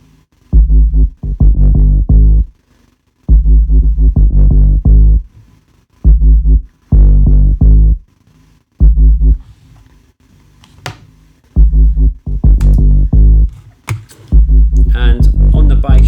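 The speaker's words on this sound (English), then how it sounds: "the bass sounds like this" A synth bass line from a bootleg of a track plays alone in loud, chopped bursts with deep sub weight, stopping and restarting in a rhythmic stuttering pattern with short gaps between phrases.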